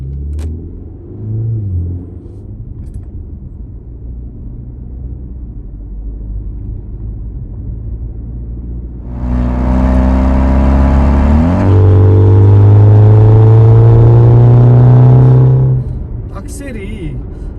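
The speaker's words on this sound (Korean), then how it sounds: "조금 더 가속을 한번 해볼게요." A BMW X4 20i with a variable exhaust idles with a low rumble, then accelerates hard: the engine note rises and swells to a loud, deep, growling drone that holds for several seconds before easing off.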